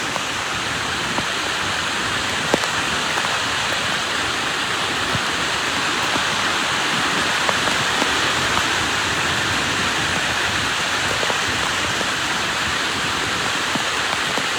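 Heavy rain pours steadily over Dwarka from early morning, a dense, continuous hiss of falling water with scattered drop impacts, loud and unbroken throughout with no voices.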